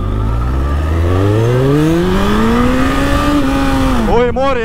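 A Suzuki Bandit 1200cc motorcycle sets off and accelerates, its loud engine note climbing steadily in pitch through the gears, heard close up with wind noise.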